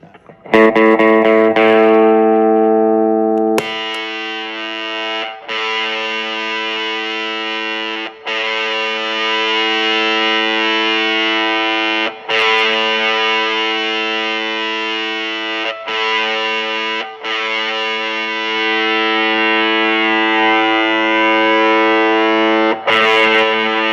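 Thick, buzzing fuzz-distorted electric guitar through an Angry Hornet or Surfy Fuzz pedal, holding sustained chords, briefly re-struck every few seconds, loud and saturated with no voices.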